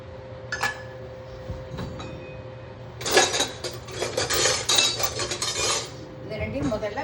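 A spoon clinks against a bowl while semolina and ghee are mixed together: one sharp tap near the start, then a few seconds of busy, close scraping and clinking that gradually settles.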